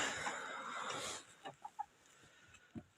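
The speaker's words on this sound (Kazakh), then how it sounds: "тауықтардың тіршілігі" Hens in a henhouse on a mild February day give several short, soft clucks after a burst of noisy rustling at the start.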